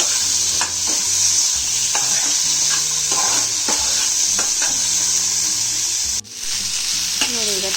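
Tomatoes sizzle in a hot pan while a spoon stirs them, giving steady close frying crackle with repeated scraping strokes against the pan and no talk.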